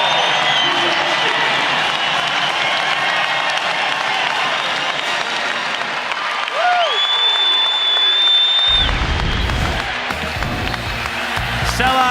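A sellout basketball arena crowd in Reno applauds and roars in a dense, sustained wall of noise, with a sneaker squeak and court thuds near the end and an announcer talking over it.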